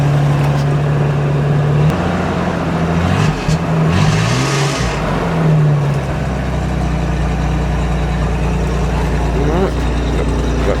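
1984 Bedford CF ambulance engine idling close by with a steady low hum, briefly revved in a few swelling pulses before settling back to a smooth purr, with light talk in the background.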